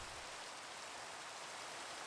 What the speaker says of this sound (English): there's really loud rain and thunder that I'm just going to turn off.